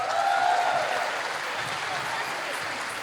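An audience applauds pre-K children after their dance at a school annual day, a steady crowd clapping that holds at moderate level for the whole stretch, with a faint tone early on and some voices mixed in.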